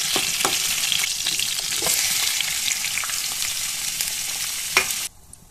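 Tomato chutney ingredients sizzling and frying in hot oil in a pan, a loud continuous crackle with occasional stirring clinks, cutting off abruptly near the end.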